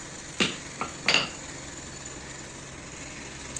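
A hammer strikes a punch into metal in a tool workshop: three sharp, close metallic knocks within the first second or so, then quiet, with one faint tap at the end.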